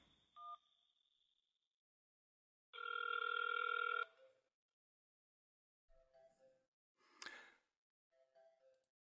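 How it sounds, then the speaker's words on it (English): A web browser plays an incoming-call phone ringtone: one short tone, then a loud sustained ring burst, followed by several fainter brief chimes and beeps in quiet surroundings. "The browser played a phone sound so that I could actually hear that the phone call was coming in"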